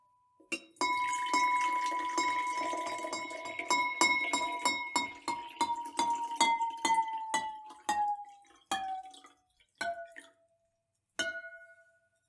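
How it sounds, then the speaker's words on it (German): A drinking glass in a church tower rings out with a series of clear taps, and its tone gradually sinks lower as water fills it, with tiny splashing between the strikes. "jetzt kommt das Wasser da rein."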